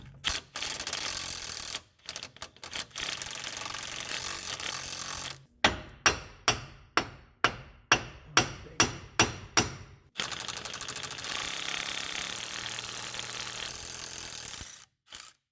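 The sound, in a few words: impact gun removing wheel hub bolt on 2012 Subaru Impreza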